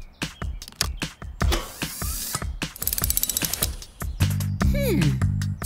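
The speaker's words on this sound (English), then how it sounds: "We'll extend the hose and wrap it around that tree for leverage and turn Fiona's reel into a winch!" Cartoon hose reel used as a winch: rapid ratcheting clicks and clunky gear turns come in quick mechanical bursts, loud and close, followed by whirring cartoon effects and a descending squeal.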